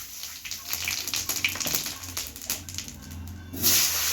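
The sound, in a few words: whole cumin seeds added to hot oil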